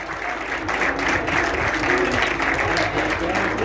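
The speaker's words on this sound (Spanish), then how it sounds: "un fuerte aplauso" Warm applause from the audience at an endurance riding awards ceremony, steady clapping that builds slightly and holds, with a voice briefly audible underneath.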